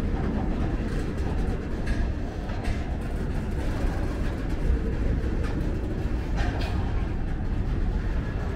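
A heavy empty grain train of over 100 railcars rumbles steadily nearby, starting to move again after stalling on the mainline, low heavy mechanical noise with faint clanks and squeals, building slowly as it gets under way.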